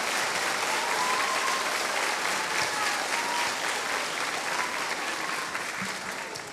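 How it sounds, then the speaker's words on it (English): An audience at a school honor band concert for beginning students applauds in a steady, dense wash of clapping that holds at full strength for several seconds and eases slightly toward the end. "Students, give them a round of applause."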